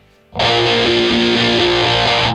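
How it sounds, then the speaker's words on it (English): A distorted electric guitar riff kicks in abruptly after a brief quiet moment, then rings on loud, dense and sustained. "you can switch over at this point to your main riff distortion"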